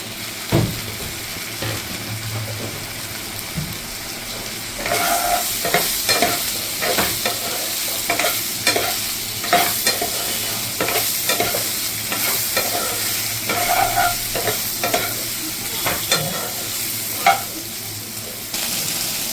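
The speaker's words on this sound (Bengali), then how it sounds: "এবার আমি এখানে বাটারটাও গরম হয়ে গেছে, এবার এখানটা ফ্রাই করে দেবো।" Cornflour-coated soya chunks fry in hot butter, giving a constant close sizzle. After a brief quieter start, a long series of sharp, regular spatula taps and scrapes follows, with no speech.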